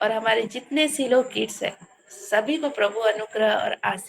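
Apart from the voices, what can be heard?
No distinct noise like a dog, phone or traffic.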